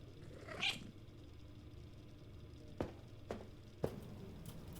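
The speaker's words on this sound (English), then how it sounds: "Should I grab the cat on my way out?" A cat meows once near the start, a short rising call over quiet indoor background, followed later by a few soft thumps and footstep-like knocks.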